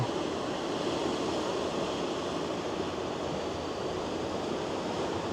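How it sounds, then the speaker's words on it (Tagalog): A steady, rushing wash of ocean surf, continuous and fairly even, with no distinct breaks or voices over it. "Nakaka-relax yung tunog ng ano, ng alon."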